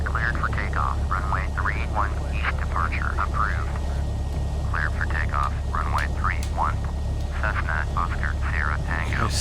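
A Cessna engine in the Prepar3d flight simulator drones as a steady low hum throughout, while a voice talks over it.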